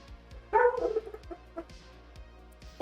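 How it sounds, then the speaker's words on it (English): A dog barks a few times nearby, sharp loud yaps followed by fainter whimpering yips, against a quiet indoor background without speech. "Fucking dog."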